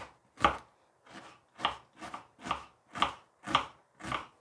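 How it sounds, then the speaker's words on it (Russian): A small onion being diced into fine cubes on a cutting board: about eight crisp, evenly spaced knife chops, close and clear, with no talking. "Одну небольшую луковицу нарезаю на мелкий кубик."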